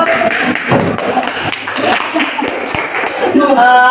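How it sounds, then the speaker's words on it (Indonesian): A classroom of students claps in a dense, noisy burst at close range, mixed with chatter and voices throughout. "Tepuk tangan dulu."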